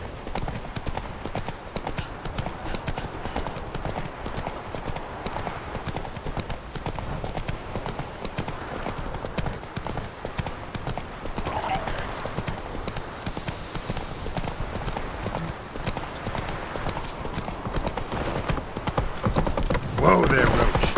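Hooves of Roach, Geralt's horse in The Witcher 3: Wild Hunt, pounding in a fast, steady galloping rhythm close up, with game voices and ambience underneath and louder movement near the end.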